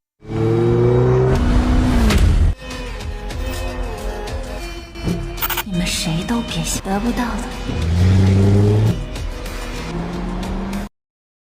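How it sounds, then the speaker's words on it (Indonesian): A car revs and accelerates hard in a dramatic scene, its engine loud and close, with tire noise and a passing roar amid music and voices. "malah menabraknya dengan mobil"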